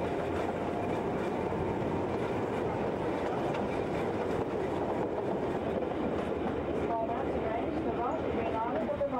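A narrow gauge railway train running on Magnetic Island gives a steady, close rumble with rhythmic wheel clatter throughout, and faint voices can be heard underneath.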